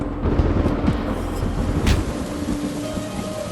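Heavy rain falling as a sound effect, a dense steady wash of noise with a deep low rumble like distant thunder underneath, constant throughout and with no talk.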